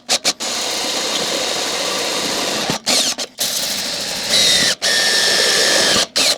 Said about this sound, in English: on the drill I've attached a stepper drill bit like this